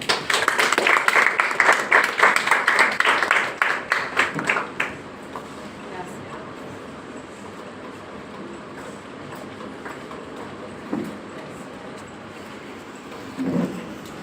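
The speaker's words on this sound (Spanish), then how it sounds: "un fuerte aplauso" Loud, dense applause from a conference audience welcomes a speaker at an education congress, a crowd clapping hard for about four seconds, then breaking into scattered claps that fade to quiet room noise with a few stray bumps.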